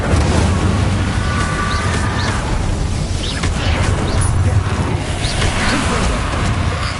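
Incendio fire spell cast in Hogwarts Legacy, a sustained roaring whoosh of flames with crackling bursts and booming impacts, loud and dense throughout.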